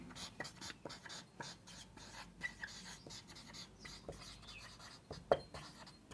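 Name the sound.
writing on a board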